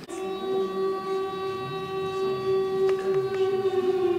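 Steady wailing civil defense warning siren of the kind used to alert the population in an emergency, a loud sustained tone with harmonics holding level throughout, with faint background noise and a couple of brief knocks near the end.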